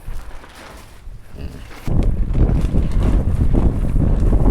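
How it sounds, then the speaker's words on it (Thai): Gusty wind in stormy weather near the waterside in Lopburi, Thailand buffets the microphone, growing suddenly stronger and rougher partway through and roaring loudly to the end. "ตอนนี้ลมฝนไม่กลัวนะ กลัวลมมากกว่านะ"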